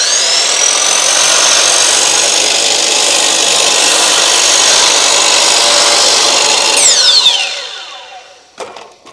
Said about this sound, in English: I'm going to move this saw this way about a degree and make that cut again